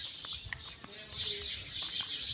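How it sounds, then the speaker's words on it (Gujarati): Birds chatter among the trees of a green residential neighbourhood during a morning walk, a steady layer of high twittering calls close by with faint background hum. "જો પક્ષીઓનો કલબલાટ દેખાય સંભળાય તમને"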